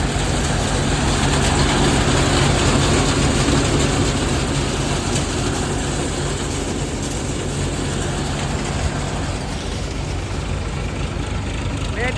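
A farm tractor engine runs steadily and loudly throughout, a continuous low rumbling drone with broadband noise from a Gujarati farm where tractors haul loads during threshing.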